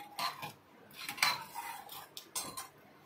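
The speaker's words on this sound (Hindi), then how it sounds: "चीनी को हम अच्छे से मिलाएंगे इसमें" A spoon scrapes and clinks against a pot as sugar is stirred into thick rice kheer, a series of close metallic strokes in an irregular rhythm without speech.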